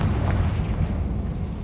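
Confringo spell blast in the Hogwarts video game: a heavy, dense boom with rumbling low-end that sustains loudly for nearly two seconds, no voices over it.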